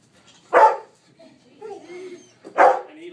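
A trained police dog barks twice, loud and close, with a few seconds of quieter whining and muffled sounds between the two barks.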